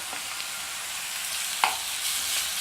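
Ginger garlic paste sautéing in a pan gives a steady, even sizzle with faint stirring scrapes and one brief clink, no voices.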